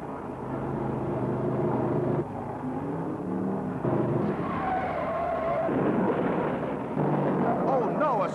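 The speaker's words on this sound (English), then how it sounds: "a spinner smashes the wall on the front straight" A stock car in the 1971 World 600 at Charlotte spins and smashes into the wall on the front straight, with roaring engines and skidding under continuous commentary.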